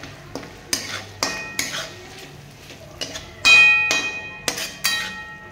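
A metal spoon stirs turmeric into spices in a pan for a spicy chicken rassa, giving sharp, ringing clinks and scrapes at an irregular rhythm, loud and close with quiet gaps between strokes.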